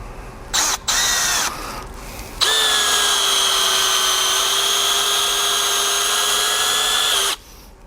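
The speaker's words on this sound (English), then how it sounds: "maybe a hair slower than the speed 1 on the Snap-on one" A Milwaukee hex bit screw gun spins up at speed 1 and runs steadily at a high, even whine for about five seconds before cutting off, after a few short trigger bursts at the start.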